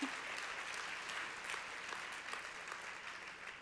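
Steady applause from a crowd at a leadership luncheon fills the room, dense and even throughout with faint cheers mixed in.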